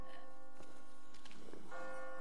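Church bells ring in The Walking Dead video game, a soft sustained tolling with steady ringing overtones and a few faint clicks, fairly quiet and heard alone without talk.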